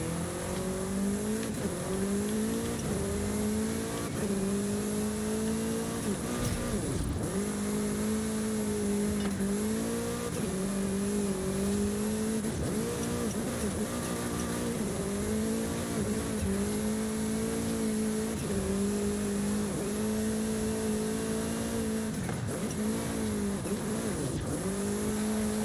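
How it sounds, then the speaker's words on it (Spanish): In Forza Horizon 5, a car drifts up a hill: an engine roars and revs nonstop with rising and falling pitch and a tire squeal that keeps coming back. It is loud and close, with no talking. "no puedo subir toda la cuesta derrapando"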